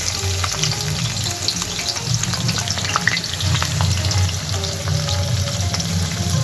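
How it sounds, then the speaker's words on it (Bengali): Four chopped onions frying in oil after tempering spices make a loud, steady sizzle, with occasional stirring scrapes over the constant hiss. "পেঁয়াজটা আমি খুব সুন্দর করে ভেজে নেব"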